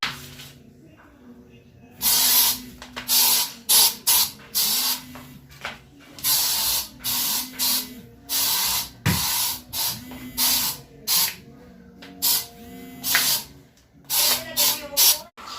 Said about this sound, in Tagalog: mag-spray muna tayo ng Lysol sa kwarto para pagbalik nila, disinfect na yung kwarto natin